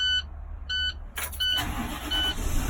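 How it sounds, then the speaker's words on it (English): A school bus engine cranks and starts after a couple of dashboard beeps, turning into a steady close idle rumble. "Turn the bus on, shift it to the lowest gear."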